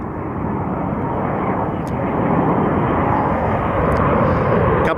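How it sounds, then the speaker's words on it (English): A United airliner arriving from Zurich at Washington Dulles makes a loud, steady jet roar that builds slightly in strength, close by and continuous, with a few faint clicks. "United, I believe this flight is coming in from Zurich"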